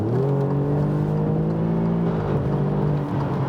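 An Alfa Romeo Giulia Quadrifoglio accelerates to overtake, its engine note climbing in pitch as it pulls hard, then easing off near the end; loud, close and continuous with no talking.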